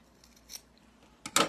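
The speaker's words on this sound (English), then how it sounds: "I'm going to take my scissors and I'm going to cut through each of these" Sharp scissors snip through the threads of a handmade tassel, a faint early snip followed by two loud, crisp close cuts near the end, with no voices.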